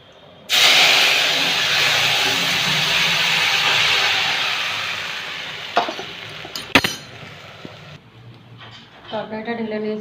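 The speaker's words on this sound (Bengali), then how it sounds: "এবার তরকারিটাকে ফোড়ন দেবো, ফোড়ন দিয়ে রান্না কমপ্লিট হয়ে যাবে।" Spices tempered in hot oil are poured into a hilsa fish curry, setting off a loud, sustained hiss and sizzle that gradually fades, with a few metallic clinks near the end.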